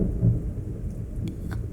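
Thunderstorm with a low rolling rumble of thunder over steady rain, a few sharper drips near the end.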